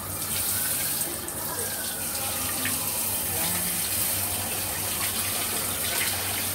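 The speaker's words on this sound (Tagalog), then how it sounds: "hugasan ko na yung talong" Tap water running steadily into a kitchen sink while a long eggplant is rinsed underneath, a constant close rushing splash with faint shifting as the vegetable moves through the stream.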